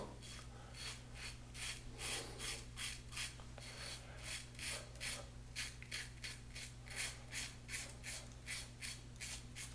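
A combo safety razor shaves a sideburn in quick, regular close strokes, each one a crisp scraping rasp against stubble, in a quiet room.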